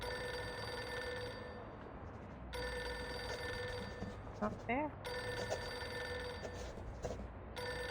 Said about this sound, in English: Pick up the phone already.